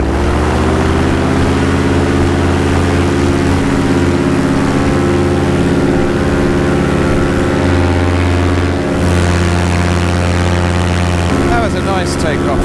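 A paramotor engine and propeller on a nil-wind takeoff, droning loud and steady up close with a harmonic buzz, the pitch shifting briefly near the end as power changes.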